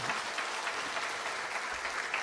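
A church congregation claps at a Korean Easter Sunday service, a brief, even patter of many hands heard at a modest distance.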